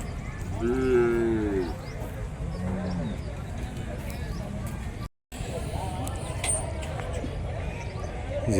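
Cattle moo loudly at the Kuntharapalli cattle market in Tamil Nadu, with large bulls and Jersey cows among the animals. A few long lowing calls rise over a steady crowd babble, with people talking throughout.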